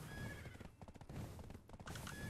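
A horse in the online game Black Desert Online lets out a loud, close whinny that rises and falls, with faint hoof clip-clops underneath.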